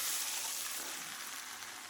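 Spice tempering sizzles and fries in hot oil with ash gourd pieces going in, a steady, close, fairly loud hiss that holds evenly throughout with no talking.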